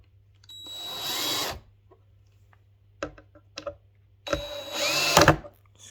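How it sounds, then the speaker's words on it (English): Screws are driven back into a speaker during reassembly, heard as two close whirring bursts from a small power driver separated by a few light clicks and taps. "let's put the screws back in"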